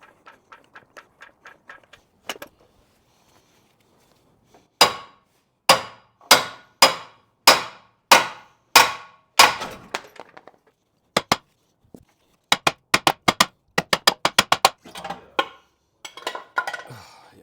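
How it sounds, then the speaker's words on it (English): Sharp metallic hammer blows strike a control arm on a 2012–2018 Hyundai Santa Fe, first light quick taps, then a run of evenly spaced heavy hits, followed by faster clustered bursts, close and loud. "I might have to hammer a little bit on it"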